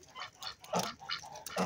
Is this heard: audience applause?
no